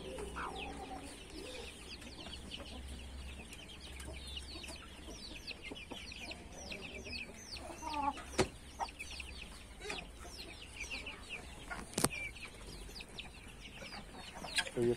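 Chickens and chicks cluck and peep steadily at a farmyard, with a rooster among them, close and continuous, with a few sharper calls standing out over a constant background hum.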